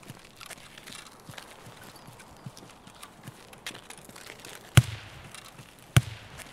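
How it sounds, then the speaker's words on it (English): Two sharp, muffled suppressed gunshots in the video game Escape from Tarkov, a few seconds apart, standing out over a quiet bed of faint footsteps and ambient clatter. "it seems they were running suppressed weapons as well"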